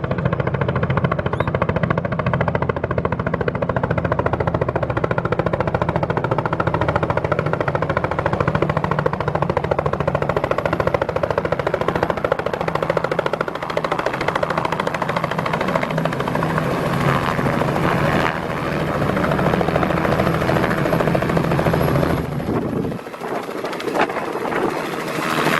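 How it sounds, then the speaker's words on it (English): A helicopter arrives in Nepal near Pokhara with a loud, steady, close rotor thump and engine whine that continues for over twenty seconds, then briefly drops away near the end. "our helicopter has finally arrived"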